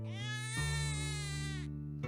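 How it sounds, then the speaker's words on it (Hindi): A newborn infant crying by a riverbank, a drawn-out wailing cry with strong harmonics that rises partway through, loud and close, then breaks off briefly before starting again. "बच्चे की रोने की आवाज फिर से आने लगती है"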